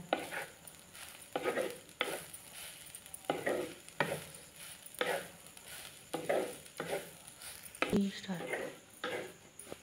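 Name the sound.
spice paste roasting and being stirred in a pan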